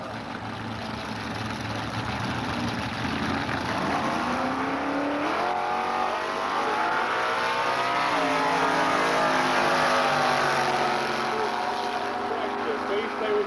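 Dragsters roaring down a drag strip at around 130–140 mph, a continuous loud engine howl with rising and falling pitch sweeps that fills the whole stretch, with an announcer talking over it.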